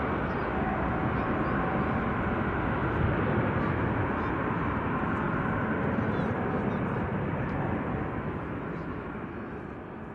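A Scandinavian airliner climbs out of Manchester Airport after rotation, a broad steady jet roar that slowly fades, with voices talking over it.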